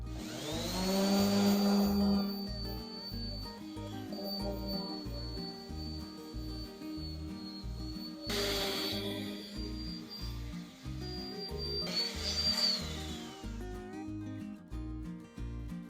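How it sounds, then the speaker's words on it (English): Orbital sander fitted with 60 grit sandpaper working across wood boards for a portable chicken run, a steady whirring drone that runs throughout with brief louder surges near the start, middle and end. "Now I got my orbital sander out. I've got a 60 grit piece of sandpaper"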